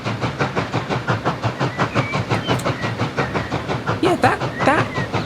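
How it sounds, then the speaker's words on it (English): A train crosses a viaduct in the Transport Fever 2 video game, giving a rhythmic chuffing with evenly pulsing beats and steamy hiss, fairly loud and close throughout. "Here comes the train."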